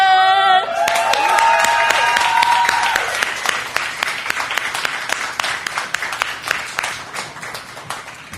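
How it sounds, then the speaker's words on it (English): A crowd applauds and cheers loudly after a short musical sting, with the clapping thinning into scattered claps toward the end. "Make some more noise for Sosa!"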